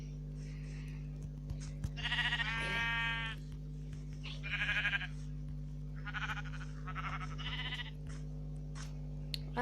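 Sheep in a survival video game bleat four times in short, wavering calls with brief gaps between them, over a steady low hum from the game.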